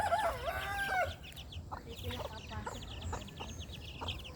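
Hens cluck and young chicks peep nearby, with a bright chirping burst at the start followed by softer scattered clucks and peeps.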